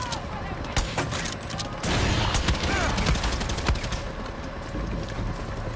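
Gunfire from the player's own weapon in Far Cry 6, a loud, close rattle of rapid shots with several sharp bursts and a denser stretch of fire in the middle, continuing throughout.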